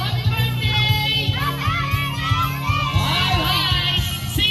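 Children and party guests at a birthday party in the Philippines shout together in a loud, lively burst, with overlapping excited voices and cheering that fill the whole clip.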